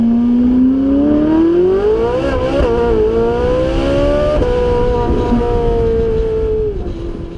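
Ferrari 458 Italia V8 revving loudly up close, the engine pitch climbing smoothly, dipping briefly, then holding a high sustained wail before dropping off near the end.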